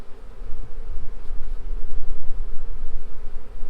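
Honey bees buzz around an open hive in early January, a dense, steady close-up hum with fluctuating swells and no talking.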